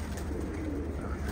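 Pigeons coo softly as they land on a rooftop, a low, steady murmur of calls throughout at a modest distance.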